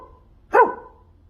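A single short dog bark, sharp and fairly close, standing alone against a quiet background; it may be a person imitating a dog.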